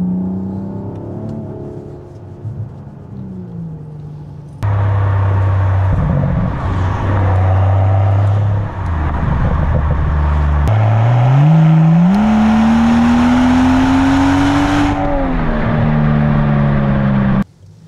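A Mansory-tuned Rolls-Royce Wraith on 22-inch wheels revs hard while driving, its engine note climbing and falling through the gears in a loud, close, continuous roar with no voices.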